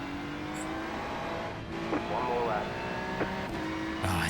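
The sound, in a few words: Ferrari Challenge race car engine in iRacing video game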